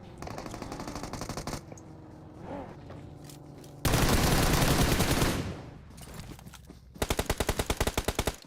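Automatic gunfire in a PUBG Mobile esports match at the Nigeria Pro League playoffs: loud sustained bursts, a dense roaring volley midway, and a final run of rapid, evenly spaced shots.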